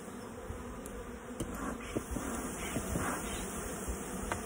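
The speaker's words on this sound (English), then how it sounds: "Bees are nuts today." Bees buzz steadily during a hive inspection, a dense close drone with individual insects flicking past the ear now and then, and no talking.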